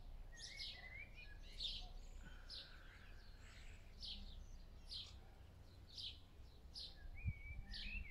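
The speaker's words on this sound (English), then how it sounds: "we have the birds that are all happy right now. So that's the natural music." Outdoor birdsong during an open-air yoga session: repeated high chirps and trilling calls from several birds, fairly faint and at a distance, over a steady low background hum, with no talking.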